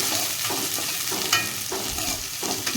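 Chopped onion and other ingredients frying in a pan for fenugreek-leaf kadubu, with a continuous close sizzle and regular scraping stirs roughly every half second.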